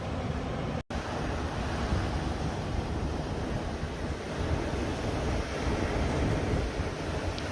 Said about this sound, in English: It's kind of windy, but it will get it done.